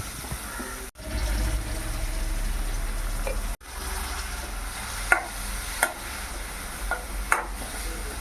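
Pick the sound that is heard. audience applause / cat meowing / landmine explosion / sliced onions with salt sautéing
sliced onions with salt sautéing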